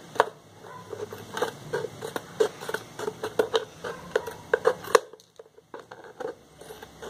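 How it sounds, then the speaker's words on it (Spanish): Scissors snip through an empty plastic whey bottle in a quick, irregular run of close, crisp cuts and crinkles, pausing briefly before a few final snips. "Con las tijeras voy a terminar de darle forma para que no quede tan irregular."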